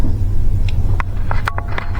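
A budget mud mower's small engine, fitted with a newly hooked-up choke, rumbles steadily and low, with a few sharp clicks and taps over the running motor.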